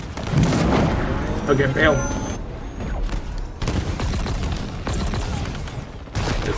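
Dense, sustained gunfire and explosive booms during a Halo Infinite campaign boss fight against Escharum, a continuous loud rattle of shots with a brief spoken remark near the start.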